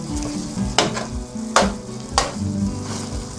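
Humba frying in a pan as spring onion goes in, a steady close sizzle broken by three sharp stirring scrapes spaced evenly apart.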